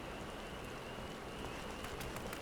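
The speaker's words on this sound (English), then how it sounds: "It's nothing but rain." Steady rain falls in the Final Fantasy XIV video game, a soft even hiss of drops on surfaces with a few brighter spatters toward the end, faint and continuous with no voices.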